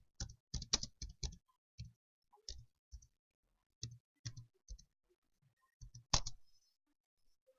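Faint computer mouse clicks on a PC, repeated single and double clicks in irregular clusters with short silences between, quiet and close with no talking.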